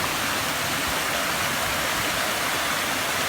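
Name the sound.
water rushing under a bridge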